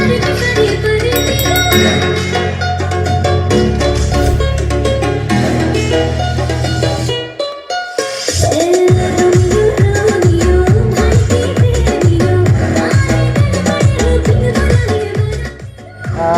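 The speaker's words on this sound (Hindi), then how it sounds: "तो अब हम कोई हिंदी सॉन्ग प्ले करते हैं।" Loud Hindi song with vocals and heavy bass, played through a small TPA3116D2 class D amplifier board at full volume, with a brief dip mid-song before the music continues.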